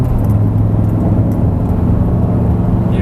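An Audi R8 sports car accelerating on a hilly road, heard from inside as a steady, loud low engine rumble and whir that holds constant without clear revving peaks.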